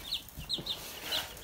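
A backyard flock of chickens including young pullets, giving several short, high clucks and calls in an irregular rhythm at close to moderate distance, with no talking.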